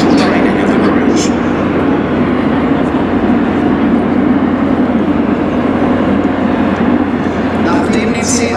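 A Transall C-160 military transport aircraft makes a very steep landing approach at the ILA Berlin air show, a loud continuous turboprop roar holding steady throughout, with someone narrating over it.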